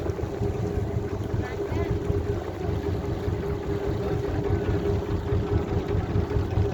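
A riverboat on the Padma slows down on open water, its steady low engine drone and hum running continuously with wind noise buffeting the microphone throughout.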